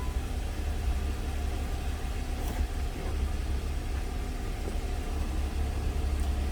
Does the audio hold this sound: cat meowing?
no